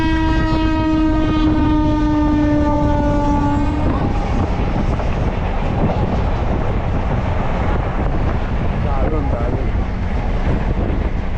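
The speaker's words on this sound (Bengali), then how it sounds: "এই যে দেখুন, আসাম থেকে ট্রেন আসছে।" A train arriving from Assam on the line toward Jalpaiguri sounds a long, loud multi-tone horn, then rumbles and clatters steadily past close by.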